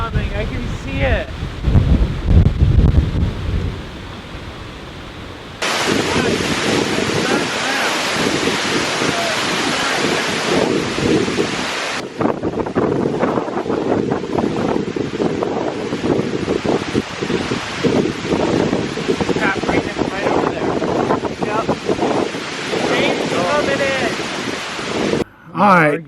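Storm wind buffets a lakeshore by a lighthouse, a loud continuous roar of gusts and crashing surf with heavy microphone wind noise and occasional voices.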